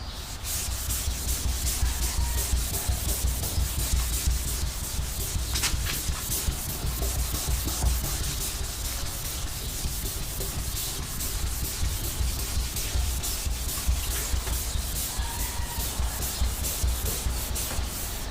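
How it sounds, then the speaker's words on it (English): Steady, continuous abrasive rubbing as a Scotch-Brite pad sands the corners and crevices of a 1962 Chevy Impala's body before a black respray, close and unbroken throughout with no talking. "you gotta sand it down with the Scotch-Brite"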